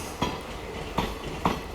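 The Mysore-Talaguppa Express departs platform 2 at Kadur Junction. It gives a steady rolling rumble with three sharp wheel clacks spaced through the stretch, heard alone at moderate distance.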